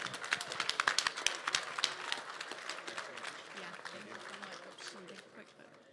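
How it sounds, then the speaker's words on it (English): Audience applause at an auctioneer championship, a burst of dense clapping from a crowd that starts strong and gradually tapers off over several seconds. "Please give Caden Barker a round of applause"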